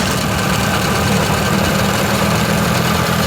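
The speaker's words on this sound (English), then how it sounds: "See how bad this engine's running?" A Nissan D21 engine idles roughly with a faulty fuel pressure regulator, a loud continuous rumble with uneven shaking vibration and faint knocking, close and without talk.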